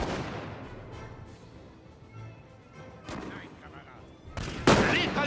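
Scattered musket shots crack at a distance, building to a louder close volley near the end, amid the din of a video game battle between Walloon Guards and Prussian Foot Guards.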